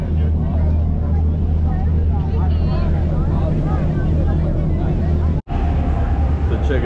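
Ferry to Angel Island under way on San Francisco Bay, a steady loud engine and water rumble running throughout, with crowd babble from passengers on deck mixed in and one brief dropout near the end.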